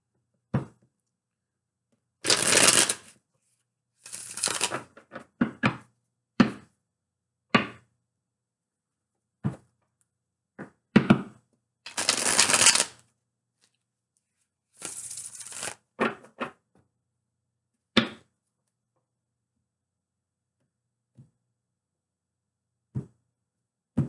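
Tarot cards are riffled and shuffled in several brisk bursts, with scattered taps and soft thumps between them and quiet gaps, no talking.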